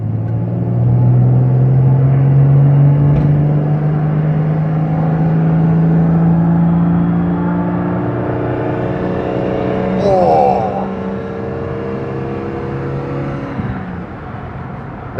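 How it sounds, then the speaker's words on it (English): A 1965 Jaguar S-Type's XK engine accelerating at full bore on the road, heard from inside the car as a loud, deep rumbling growl that rises in pitch through each gear, with a shift partway through and faint speech. "I love the sound of an XK engine at full bore"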